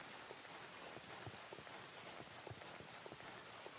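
Steady rain in the video game Ghost Recon Breakpoint forms a dense, even hiss, with individual drops pattering on surfaces throughout and no voices.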